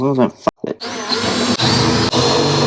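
Drill with a step bit enlarging holes for an M6 rivet nut while fitting a kitchen drawer into a BYD Shark 6 ute: a close high whine grinding steadily after a brief spoken moment, with two short dips.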